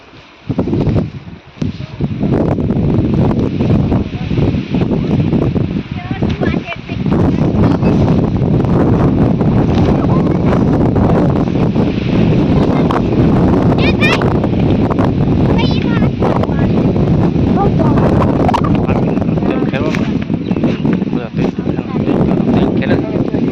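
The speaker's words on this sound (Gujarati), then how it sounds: "કોઈ પવન છે એટલે વાંધો ના આવતો. એટલે બધો બે દિવસ પવન ઉડે છે." Strong outdoor wind blows steadily across a farm where sesame is laid out to dry, buffeting the microphone with loud, continuous low rumbling and rustling, while voices are heard faintly underneath.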